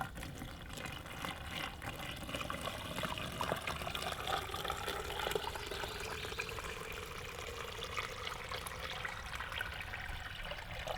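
Water pours and gushes into an Extreme TideWe Muck rubber boot, a steady, fairly loud liquid rush lasting throughout with no talk.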